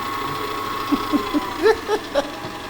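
A Farberware stand mixer runs with a steady motor hum, close and fairly loud, while a few short voice-like bursts sit over it.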